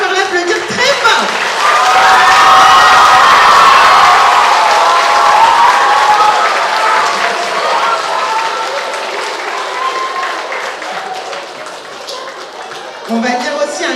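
A show audience in Étaples-sur-Mer applauds and cheers the pianist at the end of a children's performance, loud sustained clapping with shouts that swells early, then slowly thins out, with voices mixed in.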